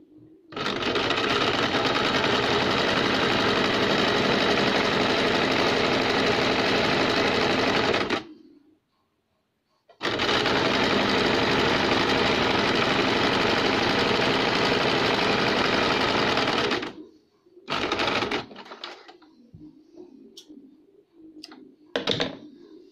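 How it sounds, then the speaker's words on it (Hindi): Sewing machine running straight seams on fabric strips for a cuff sleeve, two long loud continuous runs separated by a brief pause, followed by quieter handling and shorter bursts. "ये दोनों स्ट्रिप को यहाँ से सीधी सिलाई लगाएंगे"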